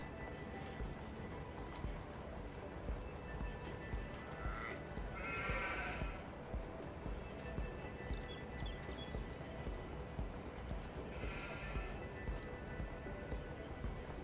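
Sheep bleat a few times in a vintage farming video game, fairly faint, over steady rain-like patter and background noise.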